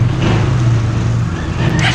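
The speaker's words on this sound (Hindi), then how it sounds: "तो अब स्टार्ट कर देते हैं बाइक को एंड साउंड चेक करते हैं।" A Bajaj Pulsar RS 200 motorcycle fitted with an aftermarket exhaust runs close by. It holds a steady, loud, throaty engine note for a couple of seconds.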